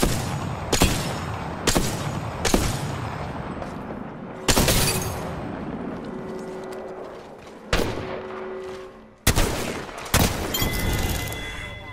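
Gunfire in Apex Legends, a run of sharp, loud shots and bursts spaced irregularly over continuous battle noise, with a few heavier cracks breaking through.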